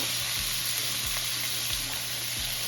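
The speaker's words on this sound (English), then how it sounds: "You can hear that sizzle. That sizzle is just rocking, all right?" Steady, loud sizzling of salmon frying in a pan, a constant crackling hiss with faint periodic low knocks, no talking.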